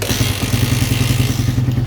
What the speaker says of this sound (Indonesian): Kita coba hidupkan mesin.